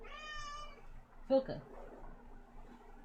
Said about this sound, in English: you're gonna hear our other cat, Filka